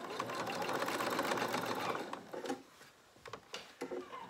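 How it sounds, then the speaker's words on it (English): A sewing machine runs a steady, close stitching burst along the hem of a small wool coat, then stops, leaving a few scattered clicks and handling knocks with no talk. "So I'm just going to put those through the machine."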